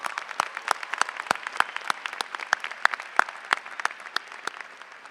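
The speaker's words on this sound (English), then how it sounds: "Please give them a round of applause" A graduation audience at the 2014 Stevenson High School ceremony applauds the band and honors choir, with a steady, moderately loud patter of many hands and sharp individual claps standing out, heard alone without voices.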